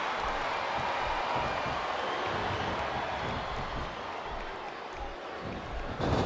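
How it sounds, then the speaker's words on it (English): A large video game wrestling crowd roars and murmurs continuously in a big arena, a dense steady wall of noise with a brief swell near the end, from WWE SmackDown vs. Raw 2007. "Sounds like this crowd's got something on their minds, King."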